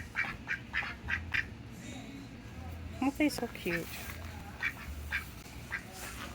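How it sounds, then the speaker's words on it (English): Several ducks quack in short bright bursts in a summer garden beside their run, some calls close, with a person talking over and between them. "There's the ducks."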